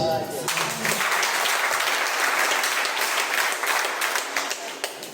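An audience claps at a church concert, the applause breaking out after a brief tone and building into dense, sustained clapping that carries on steadily near the listener.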